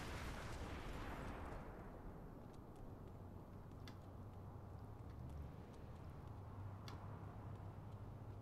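An explosion in the video game Saints Row: The Third: a broad rumbling burst that fades over the first seconds into a steady, faint low roar with occasional small pops.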